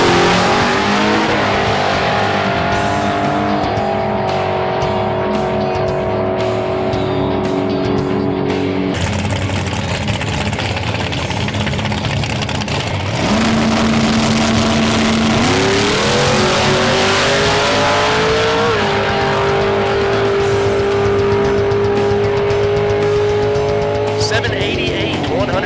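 Hot rod drag car making a run at Drag Week, engine roaring loud and close as it climbs through gear after gear with sharp shifts between rising pitches, then cutting off before revving again.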